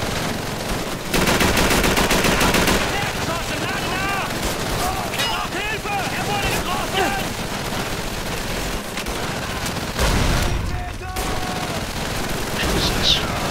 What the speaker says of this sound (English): I don't know how to deal with that gun in the window